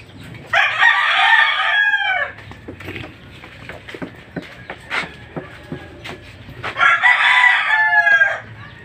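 A rooster crows loudly twice, near and clear, with scattered hens clucking and scratching sounds in between.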